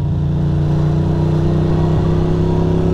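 A Ducati Monster 620 motorcycle engine runs loudly and close, a steady, smooth mid-pitched hum with a slight rise in revs, heard from the rider's position while riding.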